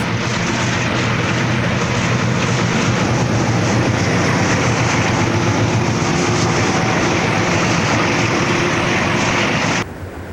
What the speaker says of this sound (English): There's your 3 RSs on a freight train.